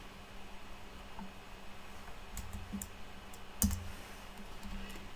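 A computer mouse gives a few faint, sharp clicks in a quiet room with a steady electronic hiss behind them.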